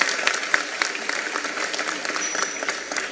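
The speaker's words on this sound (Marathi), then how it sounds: "टाळ्या वाजून स्वागत करा सगळेजण" An audience claps to welcome a singer at a Datta Jayanti kirtan, steady dense applause lasting a few seconds, fairly loud and without talk.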